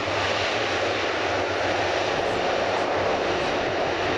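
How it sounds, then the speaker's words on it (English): Lockheed Martin HC-130J Hercules of a Marine refueler transport squadron touching down at an air display, a loud steady roar of turboprop engines with a low throbbing drone throughout. "touching down the Lockheed Martin HC-130J Hercules"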